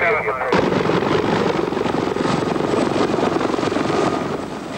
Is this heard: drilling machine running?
no